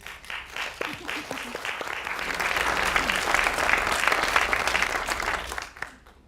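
Audience applause during a summit panel discussion, a dense swell of clapping that builds and holds for several seconds, with a voice coming through underneath before it thins out.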